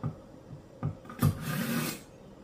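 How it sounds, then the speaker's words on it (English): A kitchen knife is drawn through a knife sharpener in a few short rasping strokes, close and fairly loud, ending in one longer grinding pull, ahead of cutting up fat for tallow. "And knife sharpener. We want to make sure that we have the sharpest knife absolutely possible"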